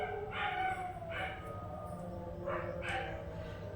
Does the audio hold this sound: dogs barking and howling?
yes